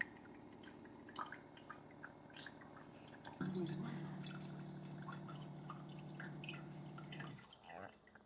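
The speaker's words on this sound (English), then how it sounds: "You can see that water is now coming out down into the carafe." Filtered water from a Bluevua ROPOT countertop purifier trickling into its carafe, a soft steady pour with a low motor hum that stops near the end, fairly faint and close.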